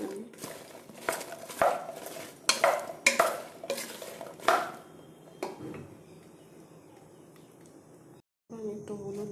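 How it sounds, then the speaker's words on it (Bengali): Pointed gourd with turmeric is stirred in a frying pan, a spoon scraping in a string of sharp clatters over a soft sizzle, then the sizzle continues alone. A voice speaks briefly near the end. "তো আমি এগুলোকে ভেজে নিচ্ছি।"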